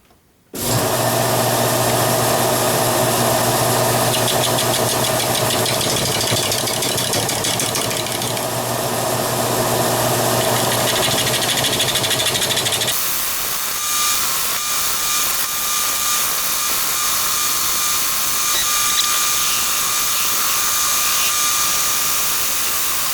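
A wood lathe spins a ficus bowl blank with a steady loud whine and tool hiss for about thirteen seconds, then the pitch drops and the motor runs on more quietly as the turning continues.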